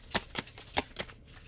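A tarot deck is shuffled close up, with four or five crisp riffling bursts in quick succession followed by a quieter settling of the cards.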